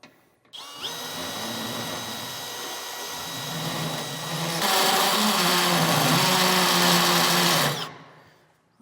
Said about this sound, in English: I'm going to take a deburring tool and we're going to make that opening just a little bit bigger